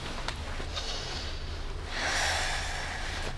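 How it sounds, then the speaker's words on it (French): A deep breath drawn in and then slowly let out through the mouth, a soft close inhale followed by a louder, longer breathy exhale. "Prends des bonnes respirations, puis laisse échapper l'air doucement."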